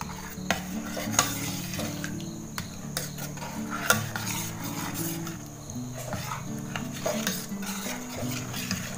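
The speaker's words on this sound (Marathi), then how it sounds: "त्यात टाकते आता मनुके आणि हे बदाम आणि हा आपला सीताफळाचा गर. चांगलीशी मिक्स करून घेते." A spoon stirs custard apple basundi with raisins and almonds in a metal pot, scraping and clinking steadily with a faint sizzle from the pan, continuous and close throughout.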